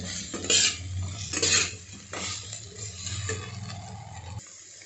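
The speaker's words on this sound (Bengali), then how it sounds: "পুরোটা ভালো করে নাড়িয়ে আর একটু ভাজা ভাজা করে, যাতে আদাটা কাঁচা গন্ধ না ছাড়ে" Ginger is stirred and fried in a pan for a bhetki fish curry: a spoon scrapes and taps steadily against the metal over a low, continuous kitchen hum, with no talking.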